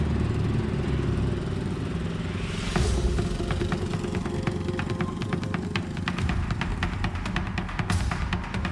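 A homemade minibike built from junk parts runs on a test ride, its small engine sputtering and puttering loudly and continuously with rough revving swells as it passes close by.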